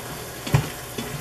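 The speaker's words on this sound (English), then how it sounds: "Probably ought to stir the garlic while I'm here." Garlic sautéing in a pan being stirred, a steady soft sizzle broken by a louder scrape of the utensil and a second lighter stir, heard alone and close.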